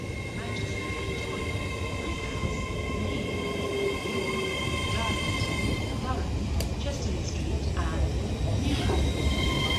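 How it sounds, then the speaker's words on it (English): A TransPennine Express class 802 train, five coaches in Pride livery, rumbles steadily into a station platform with a loud, continuous roar and faint wheel squeal, while a voice talks over it. "The train now arriving into platform 2 is the 1406 Trans-Pennine Express service to Liverpool Lime Street"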